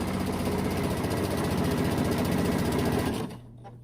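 A sewing machine stitches quilt diamond pieces in a fast, steady, close whir of rapid needle strokes, then stops abruptly near the end, leaving a low hum.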